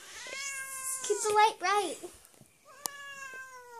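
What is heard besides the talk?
cat meowing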